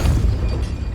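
A Depulso force spell in a Hogwarts video game: one short, loud, deep boom that fills the whole moment with a rumbling blast.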